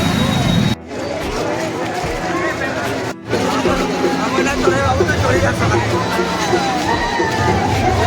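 A dense crowd hubbub at the busy Harishankar Baishakh fair, many voices chattering together loudly and continuously, with a couple of brief dropouts and a nearby voice speaking over the babble.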